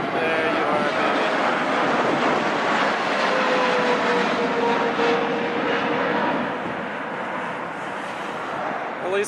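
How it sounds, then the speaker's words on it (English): A Boeing 787 Dreamliner arriving from Beijing on approach at Chicago O'Hare in gusty wind, a loud steady jet roar with a whining engine tone that swells and slowly eases, heard close overhead. "Air 787 Dreamliner from Beijing"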